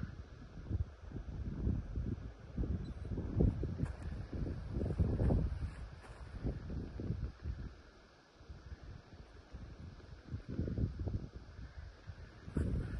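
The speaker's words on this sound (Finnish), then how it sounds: "Tuuli humisee." Wind blows in the open during a solo hike in the Vätsäri wilderness, a faint, low, gusty rumble buffeting the microphone in uneven surges with a short lull midway.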